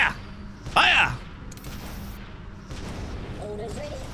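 Weapons on battleships in the Battlecruisers video game let off an opening boom, then a lighter rumble of impacts and steady background din, with someone shouting excitedly over the noise.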